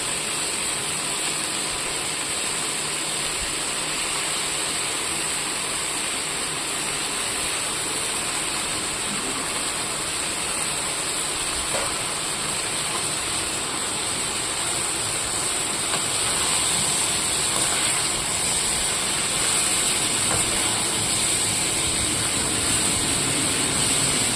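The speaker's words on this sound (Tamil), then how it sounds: "பிரண்டை நல்லா வதங்கிடுச்சு" Pirandai (veld grape) sautés in a pan for a thuvaiyal, giving a continuous loud hiss and sizzle that holds steady and swells slightly toward the end, with no voices.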